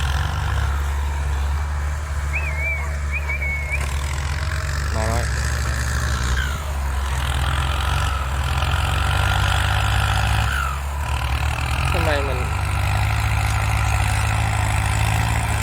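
Two tractors, a Kubota MU5702 and a Kubota L5018SP, running together in a field, giving a steady low diesel engine drone throughout with some chirps and talk over it.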